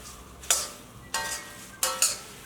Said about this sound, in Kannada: ಗ್ಯಾಸ್ ಆನ್ ಮಾಡಿಕೊಂಡು ಲೋ ಫ್ಲೇಮಲ್ಲಿ ಚೆನ್ನಾಗಿ ಮಿಕ್ಸ್ ಮಾಡ್ಕೋಬೇಕು